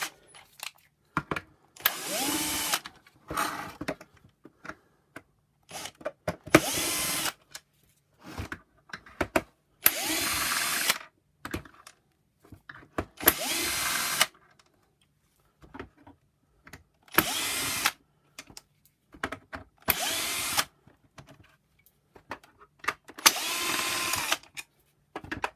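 A power driver with a T20 Torx bit backs screws out of a Shark Lift Away NV602UK vacuum motor base, whirring in short bursts of a second or two separated by quiet pauses, close and clear.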